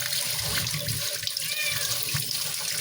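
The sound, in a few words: tap water running to soak fish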